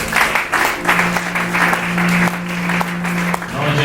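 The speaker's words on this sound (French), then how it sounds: "C'est comme ça qu'on acclame le Seigneur" Church congregation clapping in acclaim of the Lord, loud rhythmic applause throughout with voices mixed in underneath.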